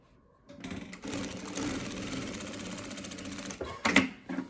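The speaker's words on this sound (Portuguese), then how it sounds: "vou fazer aqui, ó, uma costura reta" A sewing machine runs steadily, stitching a straight seam on fabric with a brief backstitch at each end, close and fairly quiet, with a short pause and clunk near the end.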